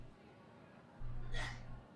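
A single short sneeze from a character in the Lost Judgment video game bursts out midway, sharp and brief over a steady low hum.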